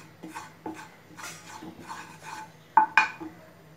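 A utensil stirs flour in a pan for creamy pasta, giving soft scraping and rubbing strokes at an uneven pace, with two sharper clinks of metal against the pan near the end.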